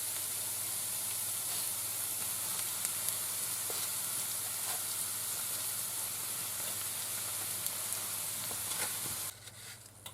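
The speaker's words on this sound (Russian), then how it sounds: "Лук немножко подрумянился. И потом сюда я добавляю фарш." Minced meat with lightly browned onions frying in a pan, a dense continuous sizzle and hiss with a few faint stirring clicks, close and steady before dropping away abruptly near the end.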